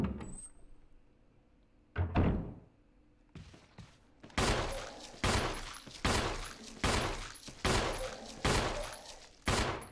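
Shotgun blasts in the video game Resident Evil HD Remaster, about seven loud booming shots spaced roughly a second apart, each followed by a brief pump-action rack, after a couple of softer thuds at the start.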